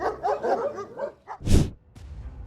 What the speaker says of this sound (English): Thanks to its loud bark